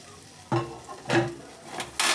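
A ripe plantain and cheese torta goes back into a frying pan with soft sizzling, and three or four short scraping, clattering bursts of a utensil against the pan sound close by.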